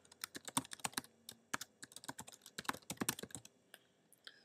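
Rapid, uneven clicking of fingers typing on a computer keyboard while filling in name and email fields, close and crisp with short pauses and no voices.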